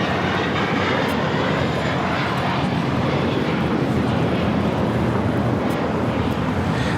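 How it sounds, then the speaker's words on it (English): A Delta Air Lines Boeing 757-300 arriving at LAX from Detroit, a steady, loud, unbroken jet engine roar close by with no pauses. "794 coming in from Detroit on a 757-300."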